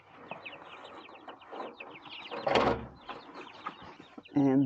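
Young chickens cluck and peep softly in short bursts around a feeder, with a louder flurry near the end; quiet, close, no talking.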